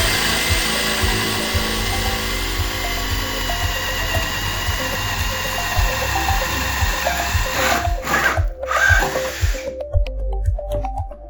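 A power drill grinds steadily through wood up close, with a low rumbling churn that bogs and changes pitch near the end as it pauses.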